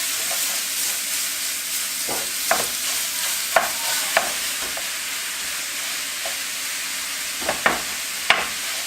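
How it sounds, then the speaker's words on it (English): Crumbled Italian sausage sizzles steadily as it browns in a pan, a constant hiss broken by several light scrapes and taps of a spatula breaking up the meat. "break it up until it's in little crumbles after it cooks, and then keep browning until it's cooked all the way through"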